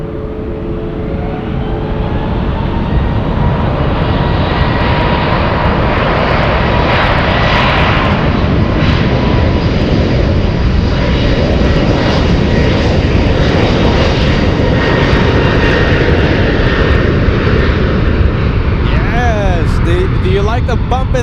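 A United airliner bound for Chicago takes off from San Francisco airport with a loud, sustained roar of jet engines. The roar stays strong and close for about twenty seconds, and a voice talks faintly underneath.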